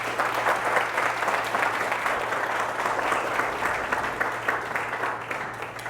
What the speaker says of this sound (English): Can we clap it up for my team?